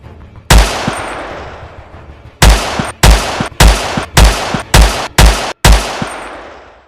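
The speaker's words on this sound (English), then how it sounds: "A high-caliber gunshot was fired into the air, followed by several more." Several high-caliber rifle shots ring out, one sharp crack followed after a pause by six more in quick succession, each loud and close with a long decaying echo.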